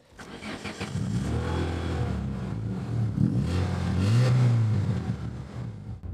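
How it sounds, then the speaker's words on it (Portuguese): A Citroën Saxo VTS small petrol engine cranks and catches, then idles and revs up and down in a couple of swells, loud and close with no one talking. "Esse motorzinho gosta de giros altos."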